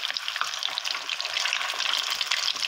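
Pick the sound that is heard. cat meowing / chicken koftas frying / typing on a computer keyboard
chicken koftas frying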